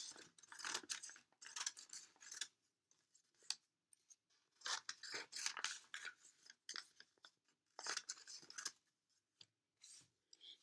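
Scissors snip a Picasso Weeping Woman-style painting into parts for a Cubist piece. Bursts of quick, close, quiet cutting strokes are separated by short pauses.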